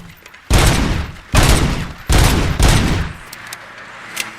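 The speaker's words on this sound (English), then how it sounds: "If you shoot for the body, you get less points in the shooting range." Four heavy, separate gunshots ring out at a shooting range in RoboCop: Rogue City, each a loud close blast with a short decaying tail, followed by quieter faint clicks.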